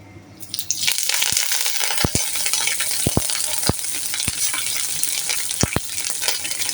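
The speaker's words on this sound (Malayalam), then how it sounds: "2 കരിവേപ്പില വറുത്ത് കോരുക." Curry leaves drop into hot coconut oil and burst into a steady sizzle. Sharp pops and crackles recur throughout, close and clear.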